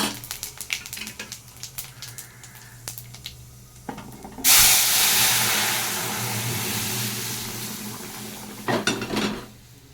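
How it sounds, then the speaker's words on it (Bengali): Five-spice and two dried chillies hit hot oil for a dal tempering at home, giving a sudden loud, broad hiss that keeps sizzling steadily for several seconds after a few light utensil clinks. "দিয়ে দিচ্ছি 5 ফোড়ন, দিয়ে দিচ্ছি দুটো শুকনো লঙ্কা,"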